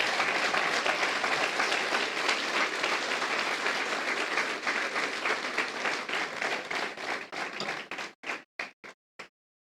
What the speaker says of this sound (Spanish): Dale un fuerte aplauso al Señor por eso entonces